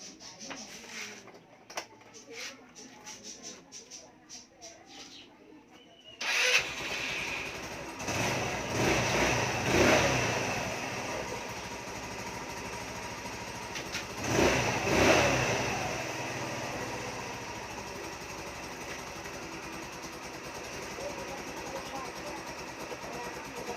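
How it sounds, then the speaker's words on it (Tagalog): A motorcycle that had no lights and needed a push start fires up after a quiet stretch, then idles with a steady rumble and revs up twice in loud swells, close by. "So, paandarin lang natin yung motor."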